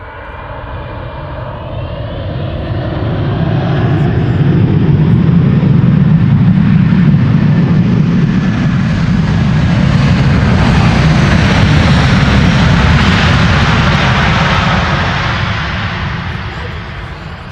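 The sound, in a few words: Delta Airlines Airbus A330-300 arriving at Amsterdam Schiphol Airport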